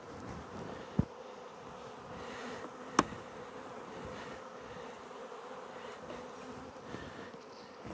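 Honey bees humming around an open hive during a spring apiary check, a continuous close buzzing drone with two sharp knocks from handling the equipment.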